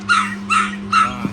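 Chinese rural puppies give three evenly spaced high yelping barks close by, with a faint steady hum underneath.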